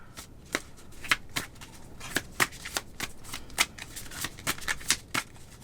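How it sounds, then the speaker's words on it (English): A deck of tarot cards being reshuffled by hand: a quick run of crisp riffling snaps and flicks in an irregular rhythm, close and fairly loud, with no talking. "Here, I need to reshuffle."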